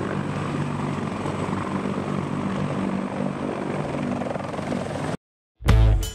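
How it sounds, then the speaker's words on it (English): Sikorsky CH-53K King Stallion, a large military cargo helicopter, drones steadily and loudly with thick rotor and engine roar for about five seconds, then cuts to silence before a brief loud burst returns. "This is the Sikorsky CH-53K King Stallion, Western's world's largest military cargo helicopter"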